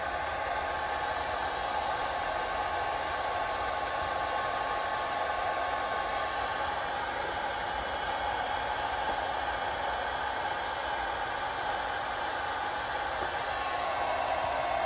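A heat gun blows steadily and close up as it warms a vinyl decal on the side of a school bus being converted, a constant broadband hiss and whoosh running unbroken the whole time with no talking.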